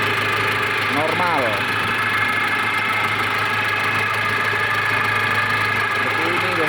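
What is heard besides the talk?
Nissan TD27 forklift diesel engine idling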